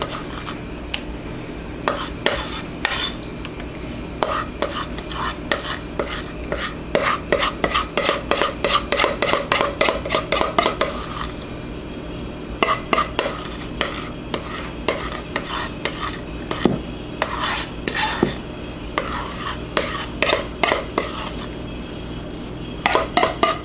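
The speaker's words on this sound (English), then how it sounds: "make sure it's all smoothed out evenly with the spoon in the shell" A spoon scraping and smoothing filling in a bowl and shell, with a steady run of close, sharp clicks and taps coming in bursts and brief pauses.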